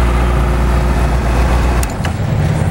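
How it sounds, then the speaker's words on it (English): Honda CBR600RR motorcycle engine running close by, a steady low drone that ends in a short sharp throttle blip and drop near the end, with no voices. "Real quick throttle response."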